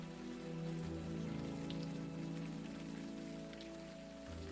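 Steady rain falls on surfaces in the video game Unavowed, a constant dense patter with no voices over it.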